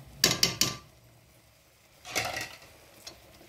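Semolina stirred in a pan, with three quick scraping clinks of a spoon at the start, then a softer scraping stir a moment later and a faint tap near the end.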